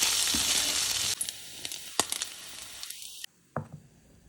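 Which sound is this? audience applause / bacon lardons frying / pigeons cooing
bacon lardons frying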